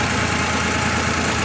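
A Damas car engine idling after a full rebuild, a close, steady mid-pitched rumble with an even fast pulse, alone and continuous over the short stretch.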